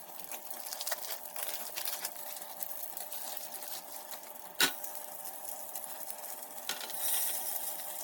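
Animal fat melting in a pot over heat for soapmaking, giving a soft continuous sizzle and crackle with faint stirring scrapes and one sharp knock partway through, quiet and close, no speech.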